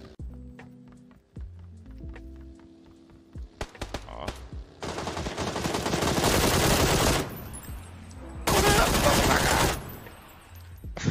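Gunfire in a video game erupts as single shots and then long, dense automatic bursts, loud and close, with a brief lull between two sustained volleys.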